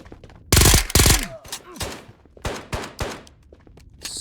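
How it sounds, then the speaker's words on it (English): Gunfire in the video game Ghosts of Tabor: two loud, dense bursts of shots close together near the start, then a scatter of sharper single reports with short gaps between them. "Who the fuck shot me up?"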